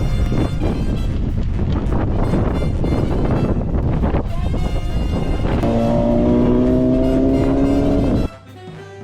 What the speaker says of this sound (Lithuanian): toks vėjas. Ir ant tokio vėjo dabar leistis.